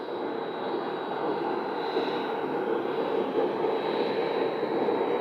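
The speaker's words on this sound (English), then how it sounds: "But this aircraft approaching is an electronic surveillance type of aircraft" An electronic surveillance aircraft approaches near El Paso, Texas, its engine roar a steady broadband rumble with a faint whine, sustained and fairly loud with no voices.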